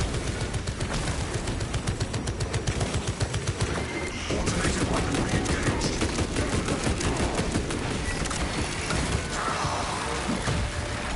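Dense, sustained automatic weapon gunfire in Warhammer 40,000: Space Marine 2, rapid shots hammering continuously and loudly across the whole stretch with mechanical clatter mixed in and no talking.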